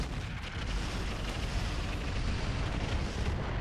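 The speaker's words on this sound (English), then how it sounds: "the Bull Shark is going to drop artillery on this Banshee out here" Artillery barrage from a Bull Shark mech in the RogueTech battle game, a continuous heavy roar of booming blasts that stays loud and dense throughout, with no talk over it.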